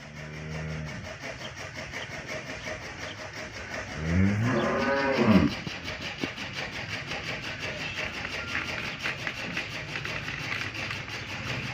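A cow on a farm lets out one loud, drawn-out moo in the middle of the clip, with a steady engine-like rumble running underneath throughout.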